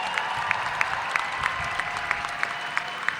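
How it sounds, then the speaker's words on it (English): A crowd at an Invasion Day 2024 rally applauds and cheers the elders, a steady dense wash of clapping with faint voices mixed in, heard from a moderate distance. "cheer the elders"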